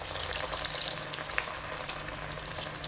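Bread-coated banana fritters (pazham pori) fry in hot oil in a small pan, giving a steady, fairly quiet bubbling sizzle with no talk.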